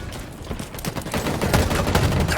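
Rapid automatic gunfire crackles in Halo Infinite, a dense burst of overlapping shots with a rattling rhythm, loud and building toward the end.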